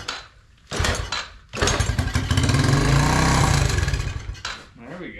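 A dirt bike fitted with a used replacement engine kicks into life after a couple of short cranking attempts, then settles into a loud, close, steady running roar before dropping off at the end.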